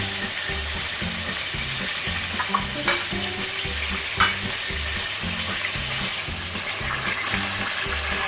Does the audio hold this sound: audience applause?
no